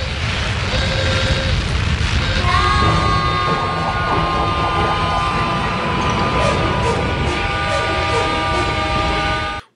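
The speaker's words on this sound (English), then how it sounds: "Starting the rocket!" A rocket in a lab starts up and launches with a loud, continuous roaring rumble and rising whining tones layered through it, voices mixed in, and the noise cuts off abruptly at the end.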